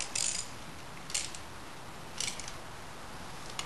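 A machine's jaws are tightened onto a VW drag racing piston held by its bottom ring groove, giving three short faint ratcheting clicks spaced about a second apart over quiet shop hum.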